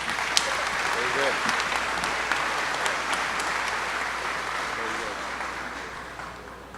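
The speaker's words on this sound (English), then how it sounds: "Let's give them all one more big round of applause." Crowd applause at the Missouri State Fair sale of champions in 2018, a steady dense clapping that holds through the whole stretch and tapers slightly at the end, with faint voices underneath.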